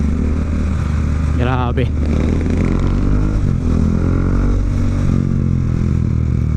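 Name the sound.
motorcycle riding in traffic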